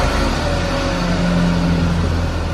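A 2015 Range Rover Supercharged pulls up with a steady, moderately loud engine hum and low rumble, heard briefly and without voices.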